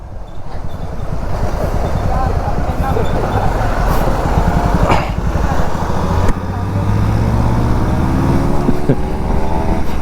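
A Suzuki V-Strom SX motorcycle rides by in Gulbarga with a continuous, fairly close engine drone and road rumble. Voices talk in the background.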